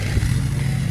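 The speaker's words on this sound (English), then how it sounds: "Sorry about the lawnmower noise." A lawnmower engine runs steadily close by in a backyard garden behind a garage, a continuous low droning rumble with no breaks across the whole moment.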